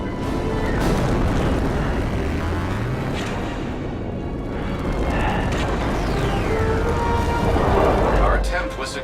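Repeated booming explosions from vents being shot out in a Star Trek PC game, rumbling continuously over dense background clamor, with voices talking over the blasts.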